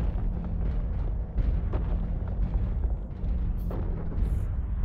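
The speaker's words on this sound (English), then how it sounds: "Lobbing missiles?" Missile barrages boom and rumble continuously in the MechWarrior video game, a dense, heavy low-end roar with repeated blasts layered over one another and a couple of brief high bursts near the end.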